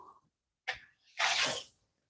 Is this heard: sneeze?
yes